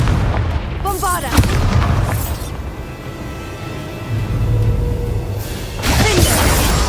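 The Bombarda spell in the video game Hogwarts Legacy sets off booming explosions with rumbling low-end weight, several blasts rolling one after another while a voice calls out over the noise.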